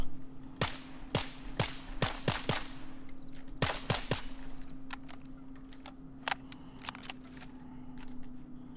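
Gunfire in the shooter S.T.A.L.K.E.R. during a mission defending Zalissya from a Monolith attack: a rapid string of sharp, loud shots in bursts, then sparser single cracks over a steady low hum.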